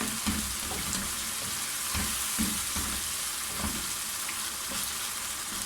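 Mutton fries in oil in a pot for Sindhi biryani, giving a steady, bright sizzle throughout with occasional low stirring knocks, close and constant, with no talking.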